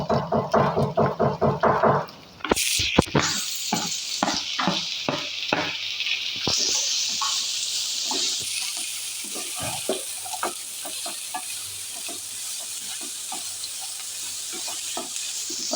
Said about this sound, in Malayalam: ഉള്ളി നല്ലോണം ഒന്ന് കളർ മാറി വരുന്നവരെ വഴറ്റി കൊടുക്കാം